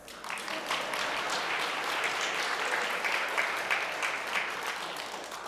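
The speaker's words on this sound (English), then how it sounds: "Pause for applause." Congregation at a Sunday church service breaking into steady applause, a dense even wash of many hands clapping at moderate loudness throughout, holding level and easing slightly at the end, no voices over it.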